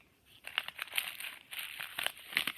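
Close, crisp crinkling of a handmade paper and tape broccoli fidget toy, a run of irregular crackly squeezes growing busier and louder toward the end.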